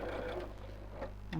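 A sewing machine hums steadily as it stitches across a thick seam on a tote bag, a brief close burst of motor sound.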